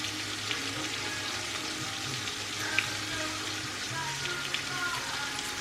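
Country ribs and onions fry in a pan with a steady, close sizzle and crackle. Occasional small pops rise above the continuous hiss.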